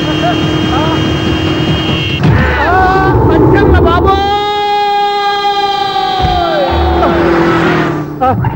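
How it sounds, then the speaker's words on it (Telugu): A siren wails in a Telugu comedy movie scene, a long rising and steady electronic tone that sounds for several seconds over engine noise and busy background sound, with talk around it. "హార్న్ ఏంటండి బాబు, సైరన్నే కొట్టాడు"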